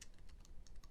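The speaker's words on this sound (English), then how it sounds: "start typing vehicle" Rapid keystrokes on a computer keyboard while C# code is typed, a close, steady patter of crisp clicks with uneven spacing and no voice over them.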